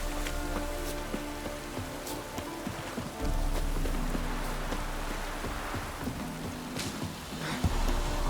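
Steady rain falling in The Witcher 3, a dense hiss of drops on surfaces with low rumbling ambience beneath, continuous and fairly loud, with a slight swell partway through; no one speaks.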